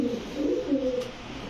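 A blue-eyed pet pigeon coos in short, soft, low rolling phrases, close by and alone for a moment.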